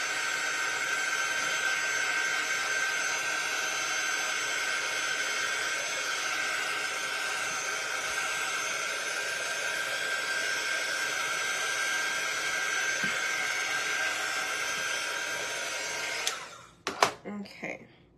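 A hair dryer blows on jelly bean mason jar decor, a loud, constant whooshing whine with a steady pitch for about sixteen seconds, then switching off, followed by a few light knocks and clicks.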